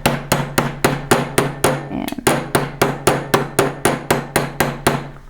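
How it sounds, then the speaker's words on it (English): A hammer strikes thin metal sheet to fold-form a ruffle, about seventeen sharp ringing blows in a steady quick rhythm with a brief pause near the middle, close and loud. "Hammered out a ruffle."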